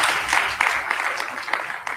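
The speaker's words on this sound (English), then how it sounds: "please have a round of applause" A crowd claps steadily for two seconds, dense and fairly loud, with no voices standing out.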